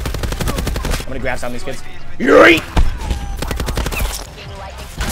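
Light machine gun fire in a first-person shooter, rapid bursts of shots crackling under someone talking, with a brief louder whoosh-like burst midway.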